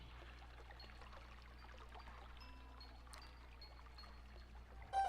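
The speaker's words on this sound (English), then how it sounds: "Now the water's going to drain here." Water draining in The Legend of Zelda: Twilight Princess HD, a steady pouring, trickling wash running without a break over a low constant hum, with a brief louder burst at the very end.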